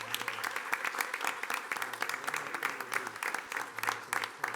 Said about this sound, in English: We should clap for everybody.